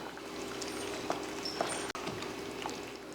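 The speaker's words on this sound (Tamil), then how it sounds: "இப்போ அடுப்பை ஆஃப் பண்ணிவிட்டு நம்ம தண்ணி வடிச்சிட்டு கடைஞ்சிக்கலாம்." Cooking water is drained off cooked ridge gourd in a home kitchen: a steady close trickling pour with scattered drips and a single brief clunk partway through.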